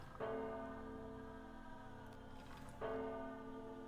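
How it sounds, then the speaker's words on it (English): A bell in the game Myst IV: Revelation tolls twice, each strike ringing out clear and sustained before slowly fading, heard faint with no voices. "arriving by the time the 3rd bell rings"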